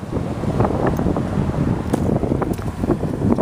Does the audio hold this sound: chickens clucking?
no